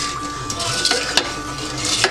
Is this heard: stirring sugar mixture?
yes